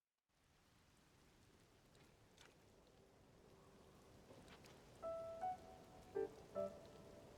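Steady rain falls in the video game Zelda: Tears of the Kingdom, a soft continuous hiss of drops at low level, with a few brief tonal game chimes near the end and no voices.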